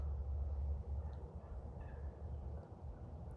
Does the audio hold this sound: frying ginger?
no